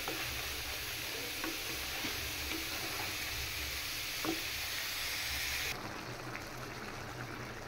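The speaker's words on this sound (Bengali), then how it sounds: "তো বেগুনটা কষানো হইতেছে, পাশাপাশি এই চুলায় আমার ফুলকপি আলুটাও কষানো হইতেছে" Brinjal, cauliflower and potato sauté on a stove with a steady frying hiss and occasional stirring taps, the sizzle thinning a little near the end.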